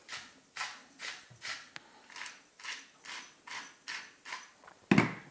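Pepper being ground onto food gives a regular series of about ten gritty, rasping twists, evenly spaced and close, ending in a sharper knock.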